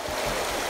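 Fast-flowing river water makes a steady, dense broadband rush that stays loud and unbroken throughout this brief moment.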